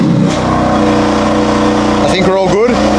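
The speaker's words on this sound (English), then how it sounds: "Now I'm going to turn the car on." A BMW M4 car engine running with a steady mid-pitched hum throughout, fairly loud and close, with a shifting whine near the end; a voice talks over it.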